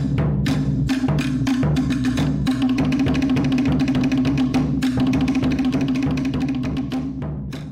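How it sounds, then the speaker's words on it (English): A Tahitian to'ere, a wooden slit drum struck with a stick, plays a fast, steady run of sharp, loud strikes close up, with a sustained low tone beneath, fading slightly at the end. "The toʻere is a wooden slit drum that makes a sharp, loud sound when struck with a stick,"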